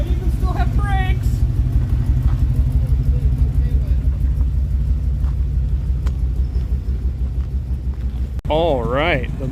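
A 1957 DeSoto Firesweep wagon hot rod's engine runs with a loud, deep, steady rumble close by, with brief voices heard near the start and again near the end.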